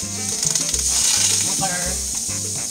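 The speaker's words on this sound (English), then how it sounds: "keep putting butter in, because you want it nice and crispy" Chicken quesadilla with cheese frying in butter in a pan, a steady close sizzle running throughout, with faint background music underneath.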